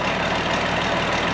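A farm tractor engine, a 1086 or a 180 Allis, idles steadily with a low, continuous rumble, close and loud throughout, no voices.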